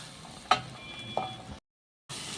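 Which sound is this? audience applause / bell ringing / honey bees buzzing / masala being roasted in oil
masala being roasted in oil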